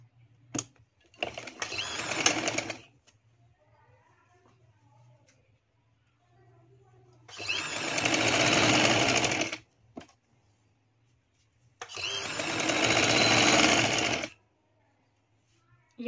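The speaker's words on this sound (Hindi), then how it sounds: "इस तरह से मैं इसको रखूँगी और इस तरह से हम सिलाई लगा लेंगे।" A sewing machine runs along a shirt side seam in three separate bursts of a few seconds each, a close, steady whirring stitch with quiet pauses between the runs.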